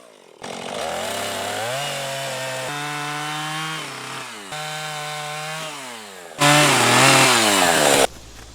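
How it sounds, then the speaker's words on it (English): A chainsaw cuts the bottom of a tree loose from its stump, loud and close, its engine pitch climbing and dropping as the chain bites, then racing to a harsh high whine before cutting off. "Now I'm going to cut the bottom of the tree loose from the stump"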